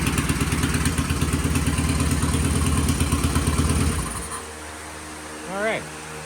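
Vintage British race motorcycle engine runs at a loud, close, pulsing idle, then is switched off and winds down to near silence, followed by a brief faint whine.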